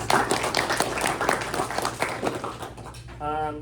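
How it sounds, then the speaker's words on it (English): A room of luncheon guests at a press gathering claps in a round of applause, a busy, moderately loud patter with a voice talking over it, tapering near the end. "so let's give them a round of applause"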